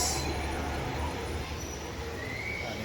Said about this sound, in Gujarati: મેટ્રો જાય છે